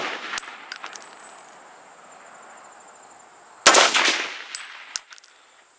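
M1 Garand rifle at an outdoor range, its steel en bloc clip ejecting with a sharp metallic ping among loud gunshots, followed by a few more bright clinks as it lands.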